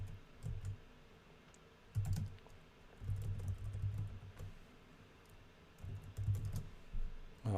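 Code being typed on a computer keyboard during a programming session, with bursts of dense clicking keystrokes separated by short pauses, close and fairly steady.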